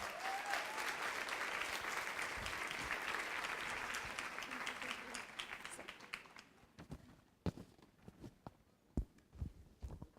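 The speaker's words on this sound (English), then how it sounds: "let's give this mother a large round of applause" An audience gives a loud round of applause that fades out after about six seconds, leaving a few scattered claps and thumps.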